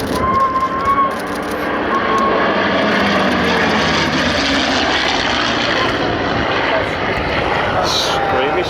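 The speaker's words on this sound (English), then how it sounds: "Expertly piloting the P-51 is Eskil Amdahl." A P-51 propeller fighter flies an aerobatic display at the Sywell air show, its engine roaring loud and continuous with a shifting pitch while an announcer talks over it.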